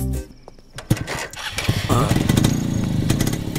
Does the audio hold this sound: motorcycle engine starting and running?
yes